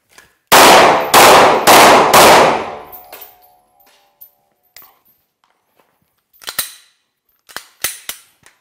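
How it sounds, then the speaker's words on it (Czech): Gunshots fired while moving backwards during shooting practice: four loud, sharp close shots in quick succession, followed by quieter clicks and clanks with light footsteps. "obracím zbraň proti terči a čistě pudově střílím"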